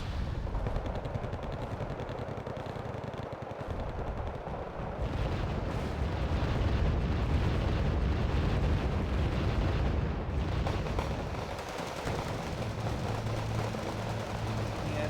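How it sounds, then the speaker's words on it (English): A continuous, dense rumble of explosions and artillery-like booms from a Harrier GR7 bombing run in the Wargame Red Dragon video game rolls on for about fifteen seconds at a steady, moderate level, with no clearly separated blasts. "Harrier GR7 doing a bombing run. Managing to spread out the love here by splitting up the bombs."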